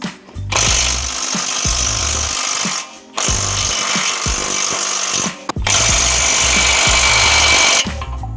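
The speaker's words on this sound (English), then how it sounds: "Third try, impact gun." Three long bursts of a loud pneumatic impact gun hammering on the bolts of a 2006 Acura TSX, each lasting a couple of seconds with short pauses between, close by.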